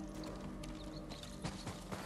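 Horse hooves clip-clopping in the video game Ghost of Tsushima, a steady run of soft hoofbeats with a few sharper footfalls over a continuous game backdrop of music and ambience, no talk.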